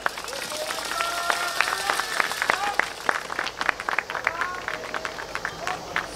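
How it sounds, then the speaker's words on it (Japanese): Audience at a yosakoi dance stage in Harajuku Omotesando clapping and cheering, a dense run of sharp handclaps over crowd murmur, with bursts of voices and whistle-like calls mixed in. "皆さんご声援手拍子よろしくお願いいたします"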